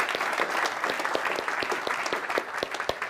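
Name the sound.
audience applause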